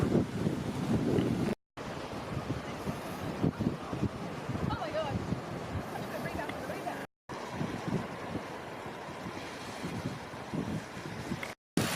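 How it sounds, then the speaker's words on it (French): Sea waves break on the shore near Melbourne, Australia, as a continuous roar of surf and gusting wind across the microphone, with a voice at times and a few short dropouts. "la mer qui est juste là"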